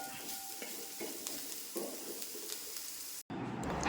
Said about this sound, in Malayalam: നമുക്കിനി ഇത് കൂട്ടി ഇളക്കി ഒന്നുകൂടൊന്ന് വഴറ്റി എടുക്കാം